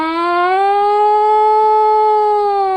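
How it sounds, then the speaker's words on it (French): An air-raid siren from a song's intro wails steadily with a slow rise and fall in pitch, loud and alone, with no voices over it. "Contenant une sirène anti-aérienne"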